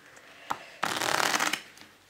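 A deck of playing cards is riffle-shuffled for a magic trick, the halves released by the thumbs in one dense, close fluttering burst lasting under a second, with a single sharp tap of the cards just before.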